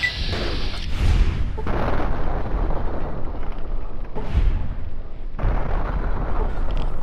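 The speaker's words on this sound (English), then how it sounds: "Somebody actually fired their own missile at me in here!" A missile explosion in the video game Fallout 3: loud, dense booming blasts that roll on continuously, with sharp fresh bursts near the start and again around the middle.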